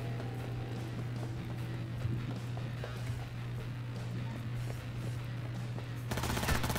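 Submachine gun fire in a first-person shooter video game, rapid repeated bursts of shots over a steady low hum, with running footsteps and clatter, a louder rattling burst at the end.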